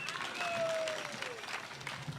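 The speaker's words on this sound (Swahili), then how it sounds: "Makofi ya mheshimiwa Ruto" A crowd at a Kenyan political rally applauds Deputy President Ruto. Moderately distant, scattered clapping blends with a murmur of voices, and a faint whistle-like tone glides through the middle.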